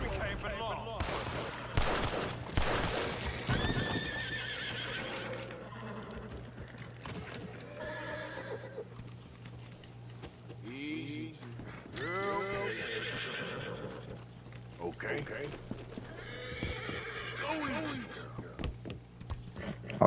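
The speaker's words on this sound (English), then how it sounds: "I like this horse." Horse neighing and whinnying with hooves clip-clopping in Red Dead Redemption 2, set among game gunfire, with a voice talking throughout.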